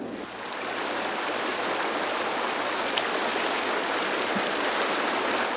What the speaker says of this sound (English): All the water is spilling over the falls and goes down into Levining Creek, which eventually flows down into Mono Lake.